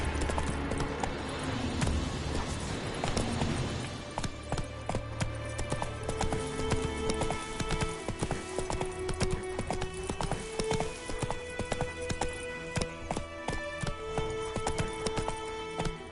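Horse hooves clip-clop in a steady rhythm in a video game, accompanied by background music and a faint whinny.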